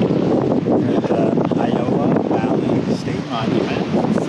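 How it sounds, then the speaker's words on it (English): Strong, steady wind buffets the microphone at Iao Valley on Maui, a continuous roaring rush with gusty swells throughout, loud and close. "We're not sure if that's how you say it, but it's very windy."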